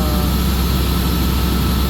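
A rebuilt Caterpillar C7 diesel engine runs at a loud, steady idle up close, a constant low rumble with a continuous high whine and no change in pace.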